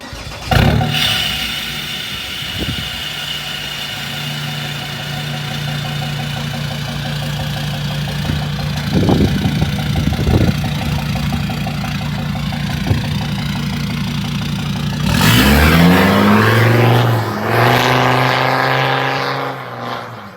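Ford Ranger with a 3-inch turbo-back exhaust driving down a street, a steady mid-pitched engine drone and exhaust rumble with a few brief throttle blips, then louder revving as it accelerates near the end.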